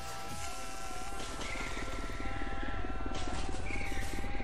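Helicopter in the video game Supermarket Shriek, a steady rhythmic rotor chop and engine buzz growing slightly louder, heard alone over game background tones.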